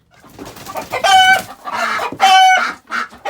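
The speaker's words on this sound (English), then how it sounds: "So the chickens are a little bit afraid of Mama Duck" Chickens cluck in several loud, close bursts, with sharp harmonic squawks rising between quieter mutters.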